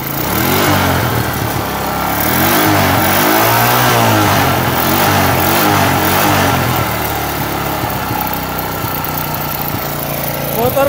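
Motorcycle engine revving steadily and loudly close by, a long-dormant bike just brought back to life, its pitch rising and falling through repeated throttle pulls with no talk over it.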